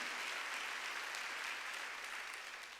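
A congregation claps together during a Korean Wednesday church service, a dense, continuous wash of applause from many hands that holds steady and then eases slightly toward the end.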